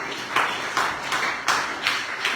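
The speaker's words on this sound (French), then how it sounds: "nous allons soutenir cet enseignement par nos applaudissements" Applause from an audience at a philosophy café session at a philosophy institute, a steady wash of many hands clapping with rhythmic surges, fairly close and continuous with no talk over it.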